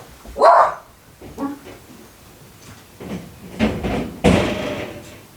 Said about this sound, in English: he's going to be barking like crazy even more